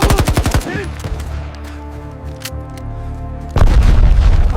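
Gunfire and explosions from a film battle scene: a rapid burst of automatic fire at the start, a heavy booming blast, then a sustained rumbling roar and another loud burst of shots near the end, with no speech.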